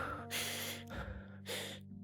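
Loud, close breaths picked up by a microphone, two long airy inhales or exhales with a quieter one between, over a low steady hum.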